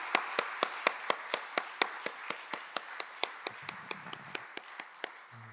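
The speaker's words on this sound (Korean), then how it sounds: "하나님께 영광의 박수 올려드리겠습니다" A church congregation claps in a steady, even rhythm, roughly twenty sharp, evenly spaced claps, crisp and fairly close, with no voices over them.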